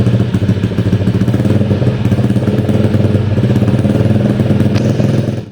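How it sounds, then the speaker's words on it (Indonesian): A motorcycle fitted with a loud knockoff free-flow exhaust runs hard and steadily up close, its deep, dense roar continuous and blaring for the whole stretch with no talking over it. "Cuma yang paling masalah dari knalpot ini adalah suaranya berisik banget"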